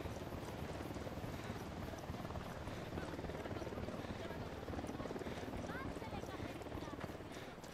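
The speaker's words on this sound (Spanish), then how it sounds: "Cuidado, un helicóptero de la unidad" A unit helicopter flies nearby in the video game Ghost Recon Wildlands, its steady rotor chop droning continuously at moderate volume under ambient game sounds.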